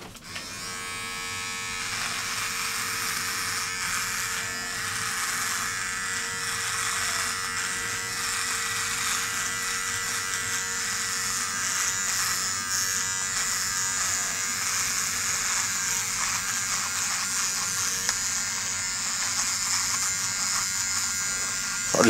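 A Dollar Shave Club double-header electric trimmer buzzes steadily against a face during shaving, loud and close, with a constant high whine and slight shifts in tone as it moves across the skin.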